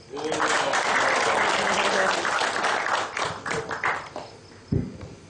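An audience at a business-sharing seminar in Indonesia claps in a full, fairly loud round that thins out after a few seconds into a few last scattered claps and a thump.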